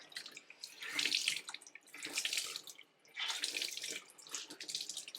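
A makeup sponge rinsed under a running tap, water splashing into a sink in repeated surging bursts as the sponge is squeezed and moved under the flow, close and steady, with no talking.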